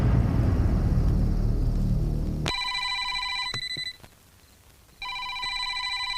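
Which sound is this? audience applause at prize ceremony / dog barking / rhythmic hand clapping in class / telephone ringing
telephone ringing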